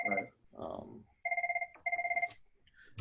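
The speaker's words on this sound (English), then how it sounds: "I'm sorry for my phone is ringing" A phone rings in two loud, pulsing trilled bursts during a podcast conversation, with someone speaking briefly over the start.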